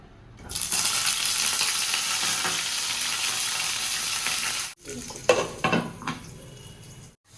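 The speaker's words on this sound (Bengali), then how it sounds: "তেল এখন গরম হয়ে এসেছে, এখন আমি আলুগুলো ফ্রাই করব।" Potato pieces dropped into hot oil in a wok, a loud dense sizzle bursting in and holding steady for several seconds, then a pause and a few sharp clinks and scrapes of a utensil against the pan.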